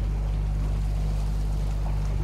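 A motorboat's engine drones steadily while the boat travels on Lake Champlain. The low, constant hum is close and loud, with wind and water noise layered over it and no speech.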